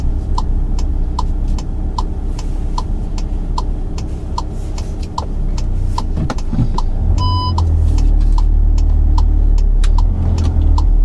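A VW Tiguan pulls away and drives at low speed, its engine running as a steady low hum inside the cabin while a regular indicator tick clicks along throughout.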